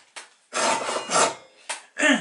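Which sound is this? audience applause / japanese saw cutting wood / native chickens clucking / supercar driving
japanese saw cutting wood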